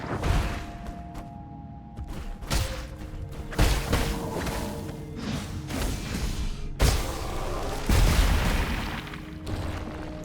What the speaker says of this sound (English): It was the explosion from him specifically.